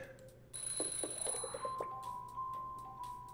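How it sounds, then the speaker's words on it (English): An alarm clock rings in a video game, a repeating electronic beeping melody of short pulses over a steady background hum, fairly loud and close with no voices. "You wake up to the sound of your alarm clock"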